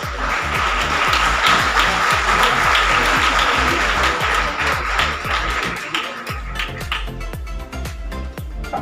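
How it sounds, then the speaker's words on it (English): Students clapping together at a school meritorious award ceremony, a dense, loud wash of hand claps with some rhythmic beating that thins out toward the end. "The students who are sitting behind, please clap for your fellow students."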